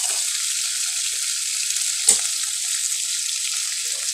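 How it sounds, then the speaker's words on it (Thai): Shrimp frying in hot oil give off a steady, even sizzle with a soft hiss throughout, broken by one brief clink or splash near the middle. "พอน้ำมันร้อน เราทอดไม่นานนะคะทอดให้มันเหลืองก็ตักขึ้นแล้ว"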